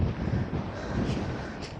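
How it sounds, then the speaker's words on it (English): Strong coastal wind at Dungeness buffets the microphone with a low, continuous rumbling roar and gusty flutter throughout, close and steady. "appreciate why it's quite windy here."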